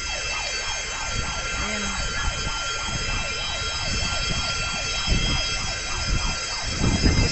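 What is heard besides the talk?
ambulance siren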